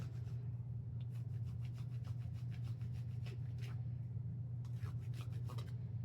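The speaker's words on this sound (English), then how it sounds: "I am just going to grate some chocolate" Chocolate being grated on a small hand grater, soft rhythmic rasping strokes in short bursts over a low background hum, close and quiet, no talk.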